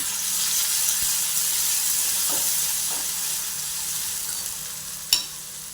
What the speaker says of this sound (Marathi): आता आपण हे वाटलेलं जिरं लसूण मिरचीचं वाटण याच्यात टाकू